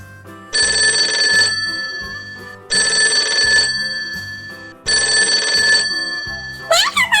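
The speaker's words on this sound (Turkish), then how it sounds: "Hadi telefonu çaldıralım." A toy phone rings in three long electronic bursts separated by short pauses, bright and close, with a brief chirpy jingle at the end.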